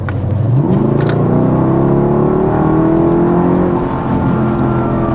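A Mercedes W211 E55 AMG with a supercharged V8 revs up sharply, then holds a loud, sustained engine note with rising and falling harmonics, close and alone without talk.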